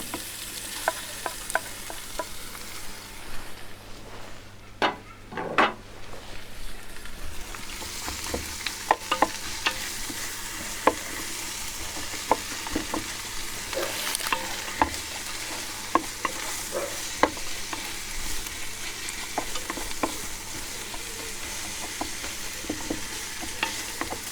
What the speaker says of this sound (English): Then we're going to go in with the sun-dried tomatoes and all the sliced onion.